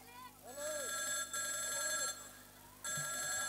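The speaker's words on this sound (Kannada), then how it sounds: "ನಾನು ಮೋನಿಕಾನ ಫೋನ್ ಹಚ್ಚಿ ನೋಡಿ." A phone rings after a call is placed, giving three repeated electronic ring bursts with short gaps between them, fairly quiet, with some faint voices behind it.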